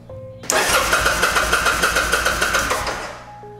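A Kawasaki Drifter 800 (VN800E) motorcycle engine cranks over on the starter during a spark test, a loud, steady rhythmic churning with regular pulses for about two and a half seconds before winding down, with no talk.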